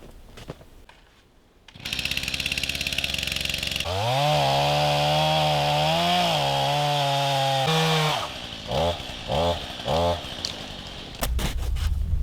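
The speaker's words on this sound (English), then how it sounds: "Now this chainsaw my dad bought me for my birthday" A chainsaw roars loud and close as it cuts through wood in a snowy woodland homestead, holding a steady bite for several seconds before backing off into a few short throttle blips.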